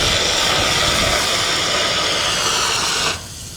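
A handheld APAR fire extinguisher discharges in a loud, continuous hissing rush during a fire-suppression drill outdoors, holding steady for about three seconds before cutting off abruptly.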